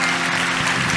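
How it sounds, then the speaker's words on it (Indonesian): A church congregation claps together during a sermon, a dense, steady burst of applause lasting about a second with no voices over it. "Silakan tepuk tangan dulu"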